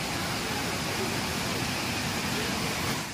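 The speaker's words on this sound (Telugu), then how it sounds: "ఎక్కడో వాటర్ పడుతున్నా కూడా మనకు చాలా క్లియర్‌గా వినిపిస్తుందనమాట" Water falls at Vibhuti Falls in a Karnataka forest, a steady broadband roar that holds even and loud with no breaks.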